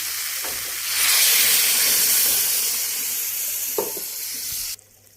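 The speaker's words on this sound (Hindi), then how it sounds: "आसी आपको आम पानी देदेवा।" Water poured into a pan of Odia-style crab curry (kankada tarakari) brings a sudden surge of loud sizzling and hissing steam. The bubbling continues steadily, then cuts off abruptly near the end.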